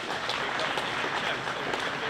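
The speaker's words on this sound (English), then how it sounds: "Round of applause to you guys." A crowd applauds at a community Walmart event in Addison, a dense, steady wash of clapping hands that holds evenly for two seconds at moderate distance.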